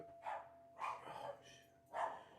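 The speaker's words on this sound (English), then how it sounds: "Yeah, this dog never shuts up." A dog barks in a few spaced bursts, faint and somewhat distant, mixed with speech.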